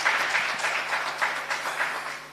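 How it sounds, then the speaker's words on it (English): At a book launch, an audience applauds in a brief, even patter of many hands, steady and moderately loud throughout the short burst, with a faint low hum underneath. "Another round of applause indeed for the three."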